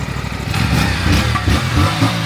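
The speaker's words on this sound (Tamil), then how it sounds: "எக்ஸாஸ்ட் நோட் ஒரு ட்ராமா தான்." A parallel-twin engine on an Aprilia Tuono 457 motorcycle rumbles steadily at close range, a deep, throaty exhaust note that swells slightly as the revs rise and fall.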